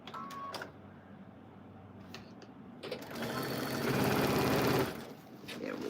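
A sewing machine stitches fabric onto a quilt, its mechanical whir starting after a quieter stretch, then running steadily and loudly for a couple of seconds before easing off, with faint voice and handling noise around it.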